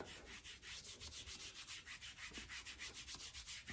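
A hand briskly rubs KT Tape onto the skin of a belly, a quick rhythmic series of soft close swishing strokes, roughly five per second, without talk.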